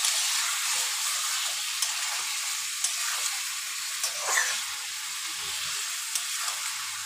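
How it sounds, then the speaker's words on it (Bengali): Chicken pieces fry in a pan with salt, turmeric and sugar, giving a steady, close sizzle with scattered crackles and pops throughout. No one talks. "নুন হলুদ দিয়ে বেশ করে আমি এটাকে একটু চিনি দিয়ে একটু ভাজা ভাজা টাইপের করে নেবো"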